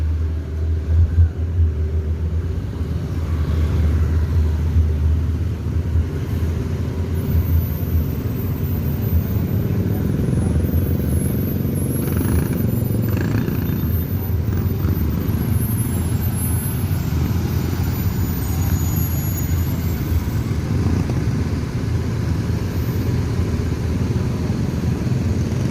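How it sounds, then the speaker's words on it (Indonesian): Tour buses rumble past continuously, a deep steady engine drone close by with traffic noise layered over it throughout. "Bus pariwisata yang dicater oleh perantau Minang yang dikomandoi oleh Bang Ade Rosiade."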